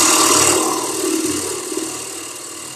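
A woodturning gouge with an Ellsworth grind, held almost straight in at 60 degrees and riding the bevel, cuts wood on a spinning lathe, giving a loud, steady whirring hiss with a low motor hum underneath.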